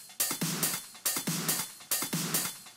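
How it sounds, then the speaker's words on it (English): Electronic dance track drum loop playing alone: a punchy kick and bright snare-and-hat pattern repeating in a steady four-beat cycle, loud and tightly looped with no talk over it. "So all together, all the drums sound like this."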